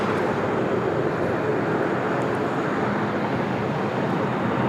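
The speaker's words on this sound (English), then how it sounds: "This is United Airlines at 1845 coming in from Baltimore, 737 and MAX 9." A United Airlines Boeing 737 MAX 9 comes in to land at LAX, a broad steady jet roar holding at constant loudness throughout, with no talk over it.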